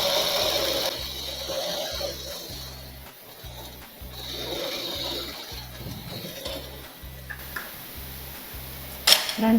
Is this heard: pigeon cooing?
no